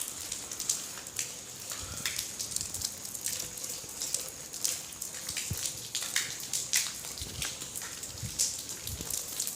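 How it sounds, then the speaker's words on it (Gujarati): Steady rain falls outdoors during a Navratri temple visit, a continuous broadband hiss with scattered drop-like ticks and splashes, moderately close and unbroken by talk. "જો મિત્રો તમે જોઈ શકો છો વરસાદ પણ આવી રહ્યો છે"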